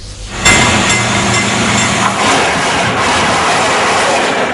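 The Colombo–Kandy train rumbles loudly and steadily along the rails at close range, with continuous wheel and carriage noise throughout and no voices.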